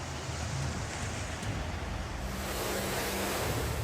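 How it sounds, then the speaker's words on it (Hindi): Raging, flooded Beas river in Manali, a continuous loud roar of rushing water and churning waves with wind buffeting, dense and steady throughout with no voices. "लहरें डरा रही हैं।"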